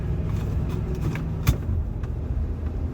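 A 1975 Pontiac Grand Prix with an automatic transmission drives along, its engine rumbling low and steady close by, with a brief thump around a gear change midway and no voices.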